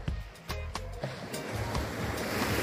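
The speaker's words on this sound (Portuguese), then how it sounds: "Só que o mar não tá pra brincadeira, não. Tá meio agitado hoje, hein?" Rough sea waves at a beach, a continuous rushing surf with several sharp crashes near the start, then a swelling wash of foam, loud and close, with some wind buffeting.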